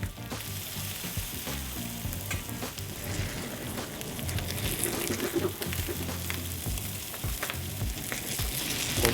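Fish maw pan-frying in a wok, a steady loud sizzle and crackle of hot oil with occasional stirring scrapes, continuous throughout with no speech.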